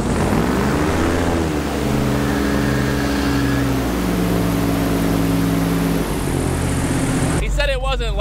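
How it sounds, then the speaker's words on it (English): Airboat engine and propeller running steadily at a boat ramp during unloading, a loud continuous droning roar with shifting harmonic tones, ending in a brief burst of voices near the close. "This is how you unload a airboat at the boat ramp."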